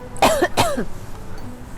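Two sharp, close coughs follow each other quickly, then a faint throaty rasp trails off into quiet.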